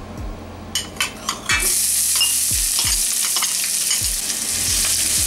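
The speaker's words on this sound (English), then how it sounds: "The oil is now hot, and I'm going to put one chopped up medium onion." One chopped medium onion hits hot oil after a few light taps of a utensil, breaking into a loud, continuous close sizzle punctuated by regular knocks of stirring against the pan.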